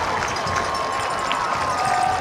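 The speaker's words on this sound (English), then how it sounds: "Crusaders asking the crowd, more noise, more noise." A college football stadium crowd at North Greenville against West Alabama keeps up a steady, moderately loud roar of cheering, with a faint whistle-like tone running through it.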